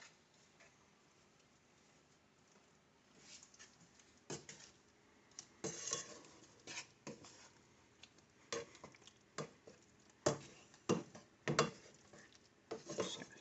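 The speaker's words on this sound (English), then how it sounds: "grab your ladle, and you gotta stir it until it melts" A ladle stirring applesauce and brown sugar in a pot, irregular scraping and knocking strokes that grow busier and louder after a quiet start, close and alone.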